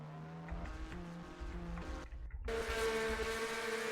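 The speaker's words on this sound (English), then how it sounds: "And some cars are actually scraping the pit wall as they exit, but Poteet got out ahead just barely" Race cars pulling out of the pits in a NASCAR-style racing video game at DuQuoin, a steady engine drone with revving pitch steps, a brief dip, then a louder surge of engines.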